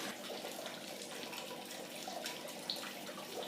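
Faint, steady trickle and splash of water running during the sparge of a beer mash for a Brewdog IPA homebrew, continuous and quiet, alone without talking.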